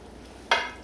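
Tomato sauce from a small can poured into a hot pan of shrimp rice, bursting into a sudden loud sizzle midway that slowly fades, after a quiet stretch of low kitchen background.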